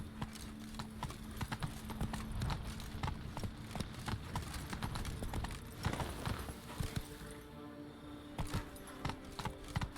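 Roach, the horse in Witcher 3, gallops with a fast, continuous drumming of hooves, loud and close against a dense game soundscape, the rhythm easing slightly toward the end.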